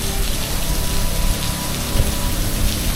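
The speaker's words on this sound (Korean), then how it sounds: "나오자마자 비가 미친 듯이 내리네요" Heavy rain pours down steadily and loudly in Thailand, near Bangkok, making a dense, continuous hiss of water hitting surfaces with no voices.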